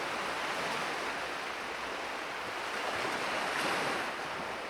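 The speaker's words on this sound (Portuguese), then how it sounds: "O som ensurdecedor das ondas quebrando contra o casco fazia parecer que o próprio mar queria esmagar o navio" Ocean waves crash against a ship's hull in a steady, dense roar of surf and wind, continuous and loud without distinct individual breaks, and no voices.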